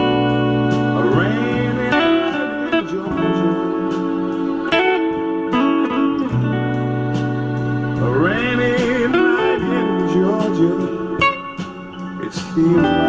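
Electric guitar embellishments for the chorus of a song, soulful bends, slides and double-stop fills over sustained chords, played close and continuously with no talking.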